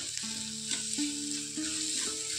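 Grated potato fries steadily in a pan for spinach soup, a continuous close hiss that holds even throughout, with steady tones running underneath.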